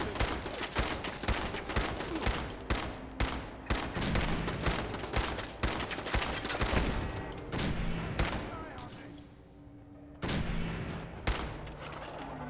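Gunfire in Fallout 4, a long string of sharp, loud shots in quick succession with brief gaps, one pause near the end before the firing resumes.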